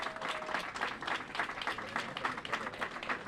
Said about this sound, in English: So I'd like a round of applause.